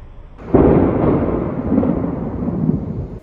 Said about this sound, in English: the thunder, almost instantly right after the lightning flash